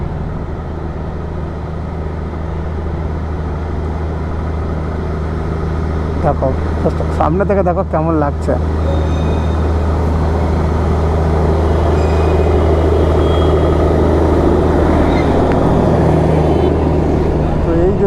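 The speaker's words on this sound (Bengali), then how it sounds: "এই যে আসছে টয় ট্রেনটা আস্তে আস্তে" The Darjeeling toy train approaches slowly, a steady heavy low rumble running throughout, with a person talking over it.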